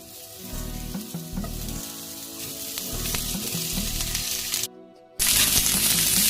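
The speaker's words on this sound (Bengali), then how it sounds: "প্রথমে আমি এই ভাপিয়ে রাখা ফুলকপিটা ভাজা করে নেব।" Steamed cauliflower fries in hot oil, a loud close sizzle with rhythmic stirring pulses over a low hum, briefly dropping out before bursting back louder and brighter.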